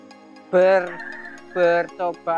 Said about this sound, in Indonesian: Karena ayam itu kan banyak nih di sini.